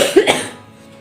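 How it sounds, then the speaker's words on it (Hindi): A woman gives a short, harsh cough, one or two loud close bursts that quickly trail off into quiet. "मुझे बार बार जो खांसी हो रही है, इसलिए मैं वीडियो नहीं बना रही थी।"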